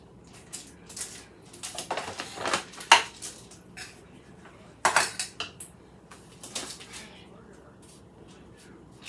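A spatula scrapes and spreads melted white chocolate bark across a tray, giving irregular bursts of scraping and clinking with quieter gaps between them, close and fairly loud.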